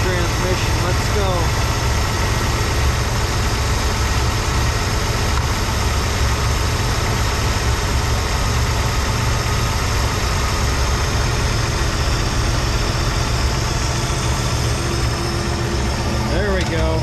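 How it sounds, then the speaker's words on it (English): A Ford 300 inline-six with a Carter YFA carburettor idles close up, a loud, steady, low rumble running throughout with faint speech over it. "Hey, she's running good. Nice idle."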